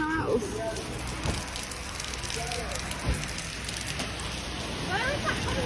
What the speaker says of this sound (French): It's just raining. I can see it.